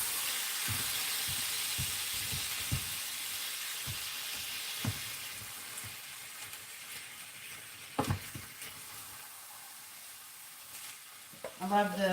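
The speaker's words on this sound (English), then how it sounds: "I'm going to add this can of San Marzano tomatoes. I'm going to kind of break them up with a spoon a little bit." Sizzling and stirring of canned San Marzano tomatoes in a hot pan, with a spoon scraping and tapping as the tomatoes are broken up, steady frying hiss underneath, close and moderately loud.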